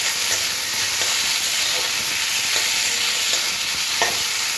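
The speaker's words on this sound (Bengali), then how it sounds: "তেলের মধ্যে লঙ্কা আর পেঁয়াজটা দিয়ে একটু লাল লাল করে ভেজে নেব" Chili and sliced onion frying in hot oil, a loud steady sizzle with faint periodic scrapes of a spatula stirring through it, close up and without any speech.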